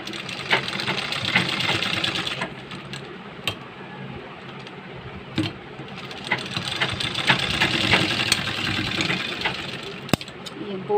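A sewing machine stitching a small square of fabric for a bow runs in a steady, loud mechanical whir with rapid ticking, close up, easing briefly in the middle before resuming.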